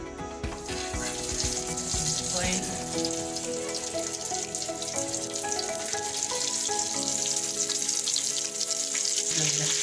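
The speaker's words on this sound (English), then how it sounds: "I've put some oil on the pan. I'm going to fry my cutlets." Breaded cutlets fry in oil in a pan with a loud, continuous crackling sizzle that stays steady throughout, along with a few faint clinks.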